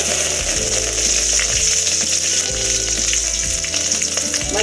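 Fenugreek seeds, curry leaves and coriander leaves sizzle and crackle steadily in hot oil over a low flame for fish curry, with repeated stirring scrapes; close and continuous, no talk.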